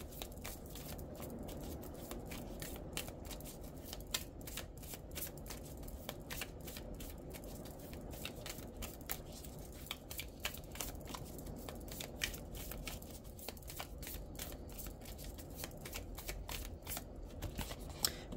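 Oracle cards being shuffled by hand during a tarot-style reading, a steady run of soft, rapid card flicks and riffles at close range, quiet and continuous with no talking.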